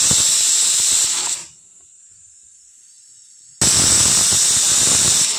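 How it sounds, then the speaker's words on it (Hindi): Loud continuous high-pitched hissing steam from a pressure cooker whistle while cooking carrot halwa, cutting off abruptly into near silence for about two seconds before bursting back on at full strength. "5 से 6 सीटी आने तक इसको हम इस पे अच्छे से पकाएंगे।"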